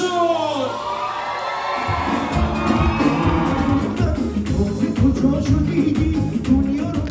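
A large concert crowd at a show in Istanbul shouts and cheers loudly and without a break, the roar of voices swelling with high whoops after about two seconds and staying dense and close.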